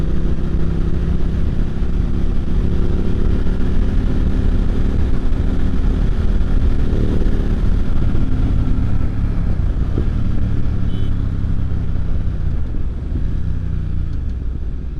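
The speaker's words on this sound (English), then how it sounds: "This is my 2021 BMW F900XR" A 2021 BMW F900XR being ridden, its engine droning steadily beneath heavy wind rush, with the pitch shifting slightly as the speed changes.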